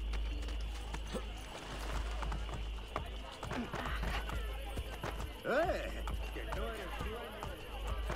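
Quick rhythmic clip-clop of galloping horse hooves in the game Assassin's Creed: Brotherhood Remastered runs on throughout, with a brief whinny midway, set against a steady low hum and occasional talking.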